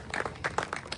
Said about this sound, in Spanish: ¿Podemos darle un aplauso al Señor en esta tarde?